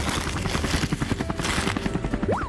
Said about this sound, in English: Okay, to the helicopter! All right, let's get this bird in the air.